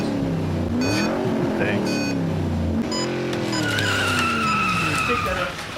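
Digital slot cars modelled on 1965 classic cars race on a Monza, Italy track, giving a loud continuous whine with rising and falling pitch sweeps and tire-squeal tones, while people talk over it.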